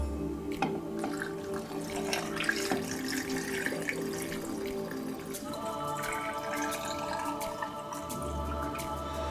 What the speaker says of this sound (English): Now it's time to pour the pickling liquid into the jars.